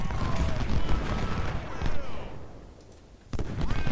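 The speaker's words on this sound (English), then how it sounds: "12 pounders move forward, 24 pounders also open up on Flurry. Heavy artillery open up on Co." Artillery cannon fire in the Civil War battle game Ultimate General: Civil War, with 12- and 24-pounders rumbling in a dense, continuous barrage of booms and crackle, swelling and briefly easing before more blasts hit.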